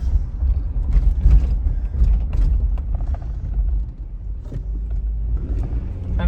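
A Nissan Xterra with a P0300 misfire under way on a test drive, giving a steady low engine and road rumble with occasional creaks and mechanical clunks, heard from inside with no talk.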